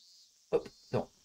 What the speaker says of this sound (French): Les grillons.